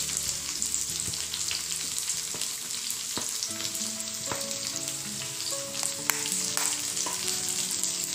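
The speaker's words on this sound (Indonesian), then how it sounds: "kemudian akan saya aduk rata" Sauce ingredients with stock powder, sugar, tomato sauce and oyster sauce sizzle and fry in a pan, crackling steadily while being stirred, with occasional scrape and clink sounds close by and no talking.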